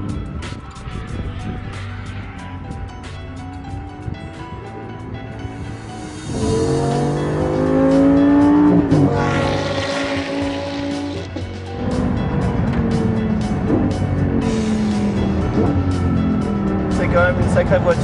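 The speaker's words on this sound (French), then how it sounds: "un moteur qui fait un bruit de moteur de course" Lamborghini LP570-4 Superleggera engine with a race-car sound, running steadily and then rising through loud revving pulls at close range, mixed with road and wind noise, while someone talks over it.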